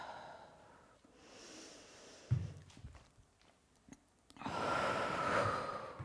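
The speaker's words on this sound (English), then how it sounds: "Breathing a lot." Heavy, rhythmic breathing from someone holding a Warrior 3 balance variation in a mixed strength, ball and yoga home workout, with breathy exhales and a few soft thumps of movement, close and moderately loud.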